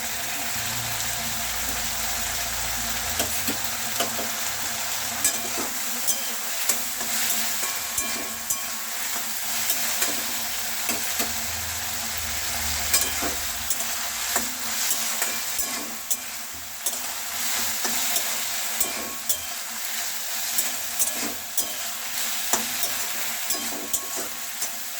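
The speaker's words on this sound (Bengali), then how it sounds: "মশলাগুলো কষানোর জন্য সামান্য অল্প পরিমাণে জল দিয়ে নেব, ভালোভাবে কষিয়ে নেব" Spices cooking down with a little water in a pan for a prawn and taro stolon dish, a continuous bubbling sizzle with frequent light scrapes and taps of the stirring spoon, close and steady throughout.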